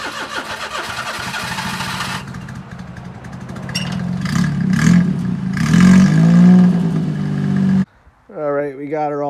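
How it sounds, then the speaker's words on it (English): Cold start of a mini truck engine after two months sitting: the engine cranks and catches, then settles into a rough, loud idle close by, with a voice speaking over it near the end. "let's see if this thing even fires up"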